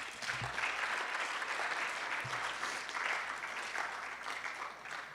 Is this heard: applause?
yes